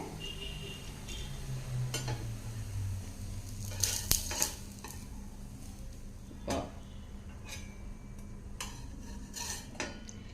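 Masala bread toast, topped with sesame and paneer, fries in a pan over medium-low heat with a steady soft sizzle, punctuated by sharp metal clinks and scrapes of a utensil against the pan.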